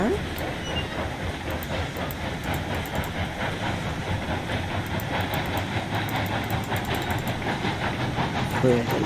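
A steam locomotive runs in the Railroads Online video game, steady rhythmic chuffing and clickety-clack over rails going on throughout, with someone talking over it.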